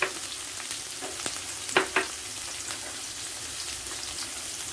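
Sliced onions going into a hot pan for Kerala beef perelan give a low, steady frying hiss, with a few brief clinks and pops near the middle, close up and without talk.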